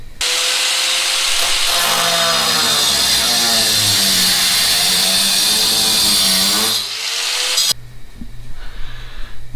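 Power tool cutting through sheet metal on the body of a Jeep XJ during a 5.7 Hemi swap, a loud, continuous high-pitched grinding whine for about seven seconds, then a lower rattling tool noise.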